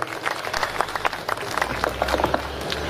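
Applause for donors at a dawn Buddhist gathering in Pune: a crowd claps steadily and densely for about three seconds, with sharp overlapping claps throughout.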